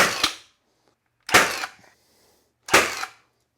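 A 21-degree framing nailer driving nails into wood fires three sharp, loud pops about a second and a half apart, each with a short decaying crack, close by with no talking.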